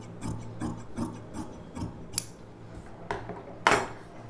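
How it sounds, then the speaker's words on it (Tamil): Scissors cut silk saree fabric for a boat-neck blouse: a run of quick, light snips and ticks, close and fairly quiet, ending in a louder rasp. No one speaks. "அப்படியே இந்த ஷேப் அப்படியே கட் பண்ணிவிடுங்க."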